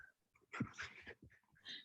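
A sister's puppy pants in quick soft breaths, with faint whimpers between them, close and quiet, in short bursts with pauses.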